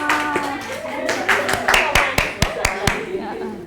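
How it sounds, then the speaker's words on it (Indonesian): An audience at a communication audit talk gives applause, a round of hand claps that starts scattered under speech, then settles into about eight sharp, evenly spaced claps. "boleh dong kasih tepuk tangan buat Mas Astaf."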